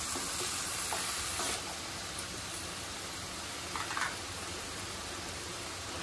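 Greens of takla sautéing in hot oil in a pan, a steady close sizzle that stays even throughout with a few faint stirring clinks.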